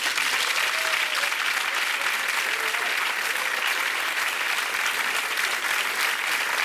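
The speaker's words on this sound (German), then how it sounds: "Ein riesen Applaus für den Benz Friedli." Dense, steady applause from a comedy audience for Swiss comedian Bänz Friedli, sustained and even throughout with no break, a broad wash of many hands clapping.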